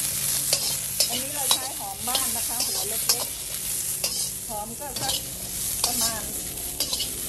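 Garlic and large chilies are dry-roasted in a pan, with repeated scraping stir strokes and a light crackling sizzle running throughout, while someone speaks briefly over it.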